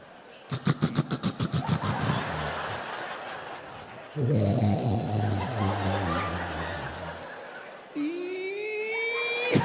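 A voice imitates loud snoring: rapid rattling snorts, then long rasping inhales, ending in a rising whine.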